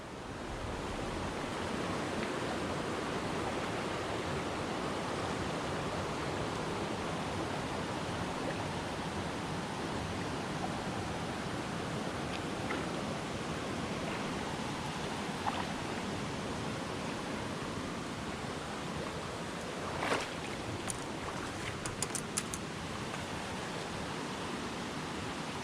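Huntfish Falls, a waterfall on Wilson Creek in the Lost Cove Wilderness Study Area of Pisgah National Forest, North Carolina, pours in a loud, unbroken broadband roar, close and constant, with a few faint clicks near the end.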